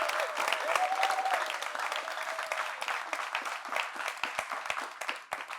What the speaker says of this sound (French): Applaudissements aussi pour vous-même, chers amis du public.